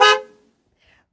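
A single short car horn honk sounds loud and alone, cutting off quickly and fading into silence.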